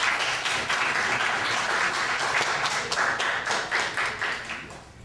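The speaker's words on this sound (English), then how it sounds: "Let's give Ojai a great round of applause." Audience applause for a poet at a Bayview Branch Library poetry reading: steady, dense clapping from a room of listeners, held at an even level for about five seconds before it begins to thin out at the end.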